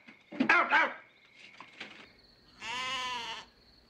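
A sheep gives a short, hoarse bleat close by, followed after a pause by a longer, strained bleat, set in quiet surroundings with no talk.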